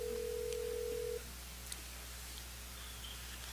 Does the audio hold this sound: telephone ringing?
yes